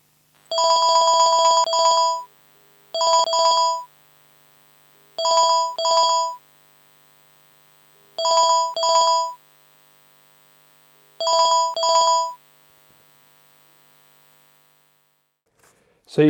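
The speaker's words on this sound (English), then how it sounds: "I'm going to call that phone and we'll see if we get any signals." A phone ringing is captured through a telephone pickup coil: five clean double-burst electronic rings spaced evenly with silent gaps between, loud and clear, followed by a brief click at the end.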